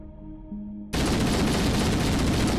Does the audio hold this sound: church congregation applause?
no